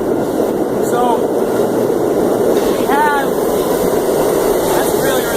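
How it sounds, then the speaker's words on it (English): A passing train fills the scene with a loud, broad rumbling roar that stays constant throughout while a person talks over it. "it's going to be a little noisy because that's the train going by."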